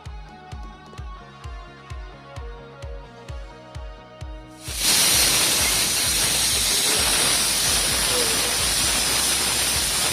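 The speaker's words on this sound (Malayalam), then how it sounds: "4-5 വിസിൽ വേണം പരിപ്പ് നന്നായിട്ട് വേവാൻ." A pressure cooker cooking lentils: about five seconds of rhythmic pulsing puffs, then an abrupt, loud, continuous rush of hissing steam that holds to the end.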